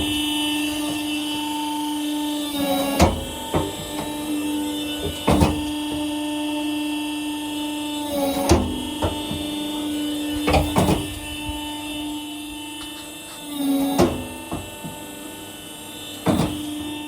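A Falach 20 sawdust briquette press runs with a continuous mechanical whir and hum, punctuated every few seconds by louder clunks and grinding pushes as the ram cycles, close by and with no talking.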